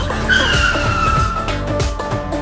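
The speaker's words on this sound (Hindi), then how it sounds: "मम्मी गाड़ी को रोको" A cartoon vehicle brakes to a stop with a loud, sustained tire squeal and skid, the shrill screech holding for over a second before fading into rumbling clatter.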